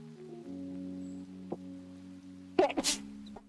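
A single sharp sneeze bursts out near the end over a quiet, steady background tone, with a small click or two earlier.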